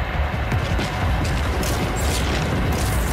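A loud, sustained boom rumbles through a video game scene, with deep low-end energy that holds steady for about three seconds without a clear single attack.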